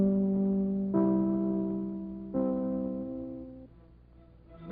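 Three-note NBC radio network chimes ring out clearly one after another, each tone sustaining and decaying with a rich harmonic ring, standing alone with no voices.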